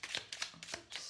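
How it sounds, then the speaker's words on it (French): Flower oracle cards drawn and shuffled from a deck, a few soft papery swishes and slides in quick succession, close and quiet. "Et je vais tirer 2 cartes de fleurs"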